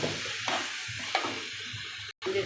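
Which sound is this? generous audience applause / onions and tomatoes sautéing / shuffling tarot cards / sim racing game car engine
onions and tomatoes sautéing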